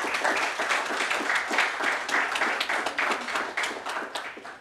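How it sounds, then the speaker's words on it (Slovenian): A room full of people clapping at a Slovenian government awards ceremony, close and lively with distinct individual claps and uneven surges in strength throughout. "Lahko damo kar en aplavz."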